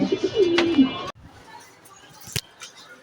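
A pigeon coos once, low and close, followed by rustling and a quieter stretch with a brief sharp sound.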